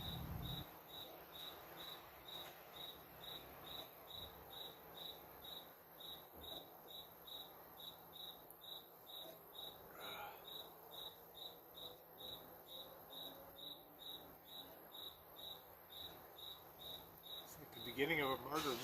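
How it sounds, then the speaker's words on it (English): A single cricket chirps in a steady, evenly spaced pulse throughout. The sound is faint and thin against a quiet indoor background, with brief low voice noise near the end. "I hear a cricket."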